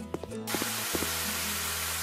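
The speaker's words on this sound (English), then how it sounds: "Just a quick little spray and it's all gone." A water spray hisses continuously in House Flipper Farm DLC, blasting graffiti off a surface; the steady, close hiss starts after a moment of quieter game sounds and holds without a break.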